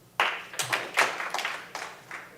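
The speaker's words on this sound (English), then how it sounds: "Clap if you've ever stopped speaking with someone over politics." Scattered claps from a small audience at a discussion session, several separate sharp hand claps over a couple of seconds, close and fairly faint, with no talking.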